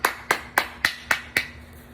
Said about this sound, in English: Matter of fact, clap it up.